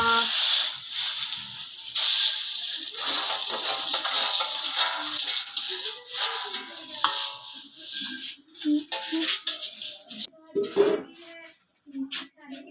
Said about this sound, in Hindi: पानी अपना लग गया उबलन।